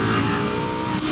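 A car engine revs hard under full acceleration after a downshift, a loud close continuous roar with a strong rising growl and no talking.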